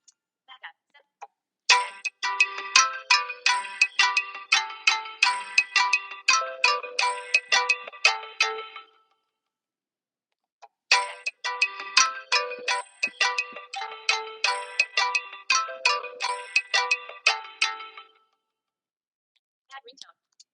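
Phone ringtone named Backup plays as a bright, repeating electronic plinking melody in two loud bursts of several seconds each, with a short silence between them.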